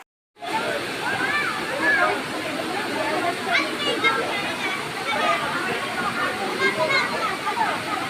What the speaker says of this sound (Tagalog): Yan ang tinatawag na Busay Falls ng Malilipot Albay.